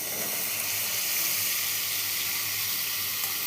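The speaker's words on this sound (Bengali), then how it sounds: "এরপরে আমি দিয়ে দেবো বেগুনটা।" Eggplant frying in spiced oil gives a steady, close hiss and sizzle, constant and even throughout with no talking.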